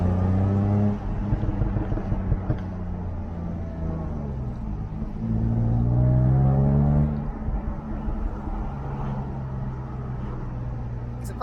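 A Jaguar F-Type S, a roughly 340-horsepower sports car, drives with a steady, throaty engine drone that swells into a rising rev and then settles again, heard from inside the car.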